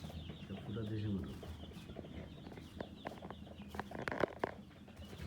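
Fayoumi and desi chickens cluck and call in short, uneven bursts on a farm, faint and close, with a person talking intermittently among them.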